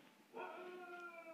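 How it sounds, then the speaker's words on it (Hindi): A dog in a village at night gives a single drawn-out yelping howl that rises and then holds, faint and somewhat distant against a quiet background. "कुत्ता भौंक रहा है"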